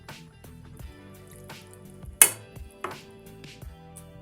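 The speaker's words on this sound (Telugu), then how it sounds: "చికెన్ ఇలా చిన్నగా కట్ చేసుకోండి" A knife chops chicken into small pieces on a board, with sparse, quiet thuds spaced irregularly and one sharper crack midway, heard close and with no talk.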